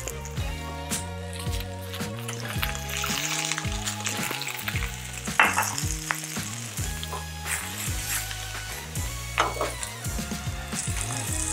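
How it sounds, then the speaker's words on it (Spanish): Oil sizzles steadily in a pan while taco gobernador filling fries, a close, continuous crackling hiss with occasional stirring, playing alone under background music. "Aquí ya voy a agregar un poquito de aceite."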